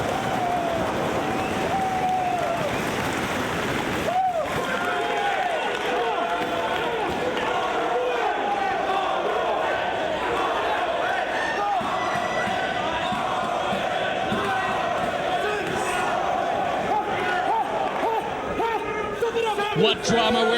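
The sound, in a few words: wrestling crowd going wild during a match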